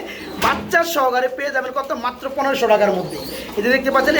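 Several pigeons coo in soft, rolling calls close by, overlapping one another in a continuous murmur.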